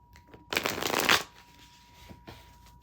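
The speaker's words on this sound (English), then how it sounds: "But let me just shuffle up a little bit." A deck of tarot cards being shuffled: one loud, quick riffle of flicking card edges lasting under a second, followed by faint handling sounds and quiet room noise.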